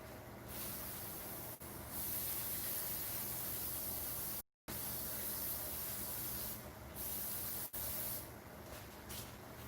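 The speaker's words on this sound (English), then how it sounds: "Give it a little shot of brake clean" Brake cleaner sprays in a steady, loud hiss onto Predator 212cc engine parts during an engine build, running almost continuously for about ten seconds with one brief break and a couple of short dips.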